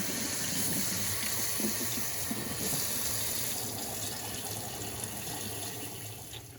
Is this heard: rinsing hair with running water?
yes